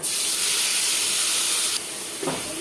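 Onion paste is added to hot oil in a pan while cooking chicken roast, giving a loud, steady hiss that cuts off abruptly partway through, followed by a quieter sizzle and a brief clatter.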